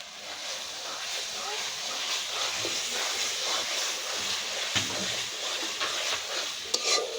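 Taro cooks with coconut in hot oil, giving a steady soft sizzle and hiss with occasional scraping stirs and light clatters, fairly close and continuous.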